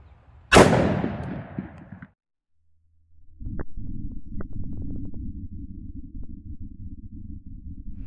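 A Smith & Wesson Model 69 .44 Magnum revolver with a 2.75-inch barrel fires a single 240 grain Fiocchi round into ballistic gel, a sharp, loud, close blast with a ringing tail, followed after a gap by steady low background noise.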